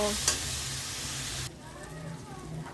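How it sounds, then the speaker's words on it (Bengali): Ginger, garlic, mustard, chilli powder, turmeric, cumin powder and salt sizzle and are stirred in hot oil in a wok, a steady dense frying hiss that drops in level halfway through while stirring continues. "মশলাটা কষিয়ে নেব।"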